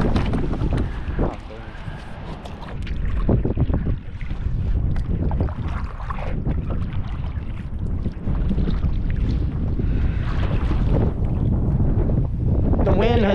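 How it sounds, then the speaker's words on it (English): Strong gusting wind roaring over a small boat out on the water while fishing for whiting, constant heavy buffeting across the microphone with bursts of louder rumble. "The wind has definitely picked up now."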